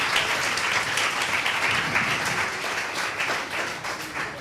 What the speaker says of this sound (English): another round of applause for our four Midnight Robbers